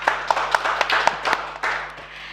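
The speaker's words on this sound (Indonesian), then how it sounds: "Beri tepuk tangannya untuk beliau." A small audience greets a guest speaker at a talk on taxes with a short round of clapping, a handful of distinct sharp claps in a loose rhythm, close and fairly loud.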